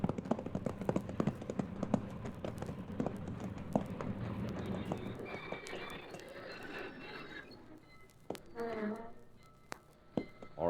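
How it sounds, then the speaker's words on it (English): Horse hooves clip-clopping in a Western radio drama, a run of sharp, irregular knocks at close range that thins out midway, followed by scattered clinks and a brief vocal-like sound. "All right, Cherokee, down off that horse and let's go."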